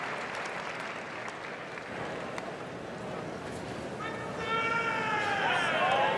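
Crowd applauding at the Westminster dog show in New York: dense, steady clapping fills the arena throughout and swells louder near the end, with high tonal cheers or whistles rising above it.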